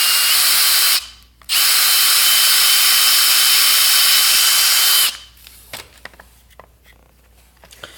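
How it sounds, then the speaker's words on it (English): A loud, high-pitched power drill whines close up in two bursts drilling a pilot hole, a brief pause between them, then stops and leaves light clatter and handling noise. "use a smaller drill bit than what's in the center of the hole saw and drill a pilot"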